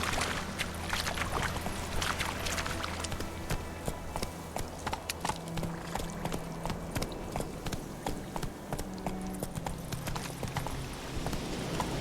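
Roach, a horse in The Witcher 3, gallops with quick, steady hoofbeats under a faint game background, with no talking.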